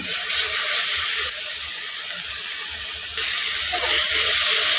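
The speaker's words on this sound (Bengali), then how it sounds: "মশলাটাও কষানো হয়ে গেছে" Spice paste for a small fish curry sizzles steadily in a pan, a dense continuous frying hiss that holds at an even level throughout, with no voices.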